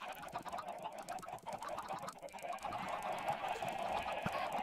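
Chickens clucking in an automatic chicken farm in Minecraft, a steady noisy chorus of game-style clucks and squawks that grows denser partway through, with no talking.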